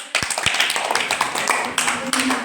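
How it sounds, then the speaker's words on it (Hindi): Children in a classroom clapping loudly together, a burst of dense claps with a few voices calling out over it. "जोरदार ताली बजाओ"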